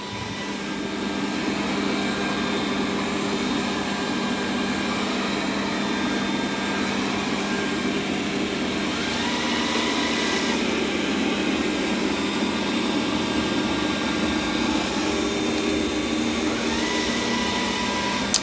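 A Dreame D10 Plus Gen 2 robot vacuum and mop works over a floor stain, a loud continuous whirring motor drone with a steady fan rush, unchanging and close throughout.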